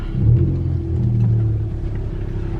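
A 2018 tenth-generation Honda Accord fitted with a custom cold air intake gives a low, close engine rumble during a test drive, with a brief rise as it pulls and then a steady drone.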